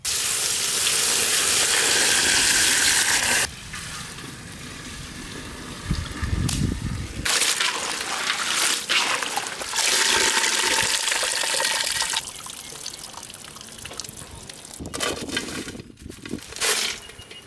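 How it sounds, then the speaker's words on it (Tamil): Running water pours and splashes steadily over a large batch of cabbage, then gives way to quieter sloshing and rinsing sounds with intermittent bursts of water. "தண்ணியை ஊற்றி நல்லா அலசிக்குவோம்."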